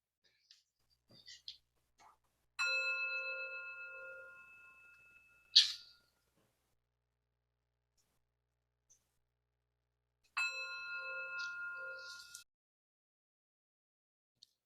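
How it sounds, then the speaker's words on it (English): A meditation bell struck twice, each ring sustaining a bright, layered metallic tone that slowly fades, the strikes about eight seconds apart with quiet between them and a faint clink before the first. "And I'll go ahead and ring the bell"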